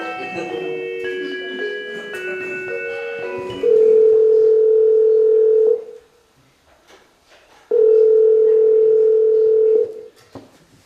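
A telephone handset gives a steady, loud dial tone in two long stretches, preceded by a brief run of keypad tones and background chatter, with a short silent gap between the tones.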